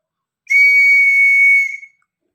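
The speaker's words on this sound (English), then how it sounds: "If I blow this whistle" A single loud, shrill whistle blast held steadily for over a second, then cut off, with silence before and after.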